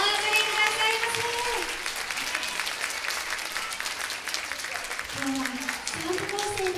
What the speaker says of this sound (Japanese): どうぞ今一度盛大な拍手お送りくださいませ。